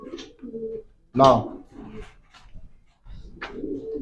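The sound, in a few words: breeder pigeons cooing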